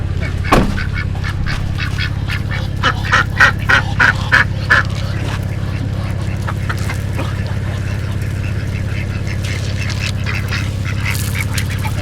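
Ducks and geese quacking and honking while being hand-fed, a run of close, loud calls early on, then a steady low background hum with scattered fainter calls.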